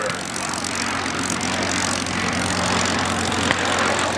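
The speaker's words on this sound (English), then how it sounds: "Pete McManus in his beautifully restored North American P-51 Mustang." A restored North American P-51 Mustang propeller fighter passes at an airshow, its engine giving a steady, broad drone that holds evenly throughout, with faint crowd or announcer sound mixed underneath.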